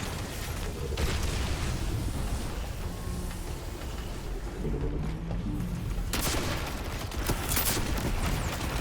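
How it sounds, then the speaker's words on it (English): Rockets fired at a tank during a Destiny 2 Grandmaster Nightfall mission in Devils' Lair: loud, dense rumbling blasts and booms run throughout, with a sharp burst around the sixth second, no talking. "Let's start launching some rockets at it."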